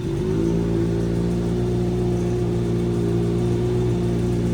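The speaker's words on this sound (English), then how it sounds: "he's actually turned on the new bike, the Z900 RS" Kawasaki Z900 RS motorcycle engine running steadily at close range, a loud, even mechanical hum with a smooth low throb and no change in pitch.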